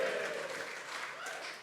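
A lunchtime audience breaks into steady applause with some cheering, a dense even wash of clapping that holds for under two seconds and tapers slightly at the end.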